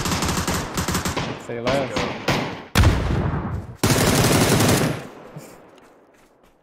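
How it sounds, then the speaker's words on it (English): Gunfire in PUBG, a rapid automatic weapon fire in several bursts, loud and close, with a short spoken phrase in the middle and a fading tail at the end. "I'm just gonna shoot so they know we're here"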